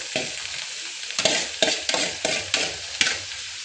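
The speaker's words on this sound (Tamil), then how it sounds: "வெங்காயம் கொஞ்சம் வதங்கிச்சு, அதுவும் இதையும் போட்டு வதக்கிடலாம்" Onions and ponnanganni greens sautéing in a pan, a constant sizzle broken by about seven rhythmic stirring strokes that scrape and toss the vegetables, close and fairly loud.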